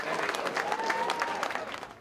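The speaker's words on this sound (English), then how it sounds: "The Ayr crowd enjoyed it even more when Climo popped it in between the posts" Rugby crowd at an Ayr club match applauding a successful conversion kick, a steady wash of clapping that holds for about two seconds before starting to fade.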